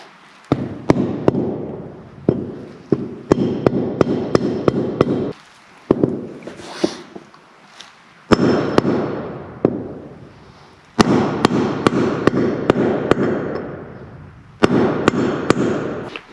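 A socket is hammered to drive a hub seal into a boat trailer hub, giving many sharp metallic strikes in quick rhythmic runs, loud and close, with short pauses between runs.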